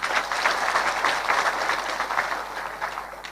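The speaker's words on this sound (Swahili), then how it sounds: "Deputy Governor wa Nyeri, Waroe Kenanire, mpigieni makofi." Crowd at a Kenyan political rally breaks into applause, a dense, steady burst of clapping that fills the short moment, with no voices over it.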